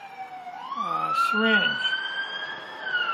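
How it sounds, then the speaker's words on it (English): A wailing siren rises and holds a sustained tone outside, fairly loud, while someone speaks briefly over it in the middle. "No, the siren isn't for me."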